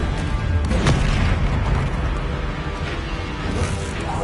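Confringo fire spell blasts in Hogwarts Legacy, heavy booming explosions rolling one into another over a constant rumbling battle din, loud and close.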